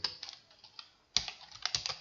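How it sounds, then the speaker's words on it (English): Quiet keystrokes click on a computer keyboard, two short bursts of typing split by a brief pause, heard close with no voice over them. "I'll just be typing box"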